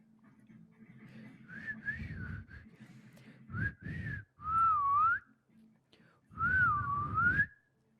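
Someone whistles a wavering, sliding tune in several short phrases separated by pauses, close and clear, with faint background noise and low hum between phrases.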